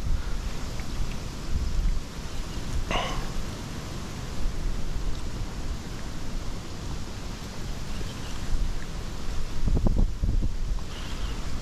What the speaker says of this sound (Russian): Ох, ветер раздулся сегодня.